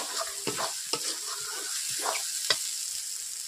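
Masala spices cooking in oil for a country mutton curry, a quiet sizzle broken by several sharp scrapes and knocks of a spoon against the pan at an uneven pace, close up, with no speech.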